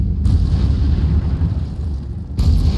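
A fiery blast from the Incendio spell in the video game Hogwarts Legacy: a loud, sustained roaring rumble that fills the short clip and fades slightly before a final surge.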